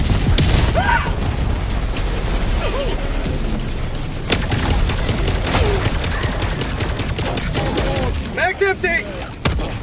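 Rapid gunfire and explosions ring out in the combat video game Helldivers 2, with dense bursts of shots, booms and crashes filling the scene, and voices call out between the blasts.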